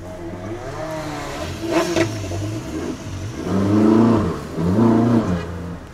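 A Ferrari 458 Speciale accelerates hard from a standing start, its engine climbing through rising revs, briefly dipping at a gear change, then surging again in loud, close bursts without talk.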